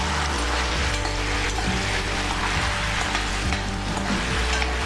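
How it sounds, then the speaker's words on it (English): A spoonful of tomato puree cooks in a pan for honey barbecue chicken, giving a dense, even sizzle that holds steady and close from start to finish with no talk. "Tomato puree should cook evenly."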